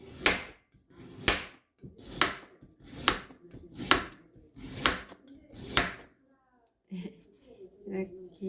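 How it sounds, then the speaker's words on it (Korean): A knife chops carrots on a cutting board in a home kitchen while mushroom japchae is prepared: seven sharp, evenly spaced thuds about a second apart, then a pause and some softer handling noises. "그리고 이제 당근을 좀 썰어 볼게요."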